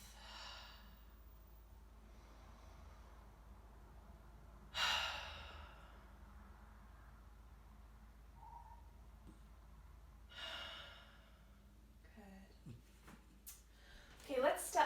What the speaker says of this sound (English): So just breathing in the nose and exhaling out the mouth.